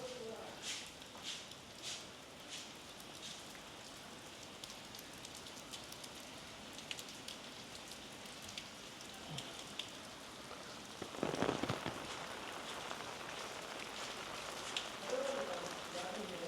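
Heavy rain pours at a mosque in Guangzhou, a dense steady patter on surfaces with distinct drips, growing louder and closer partway through, with voices faintly present in the background.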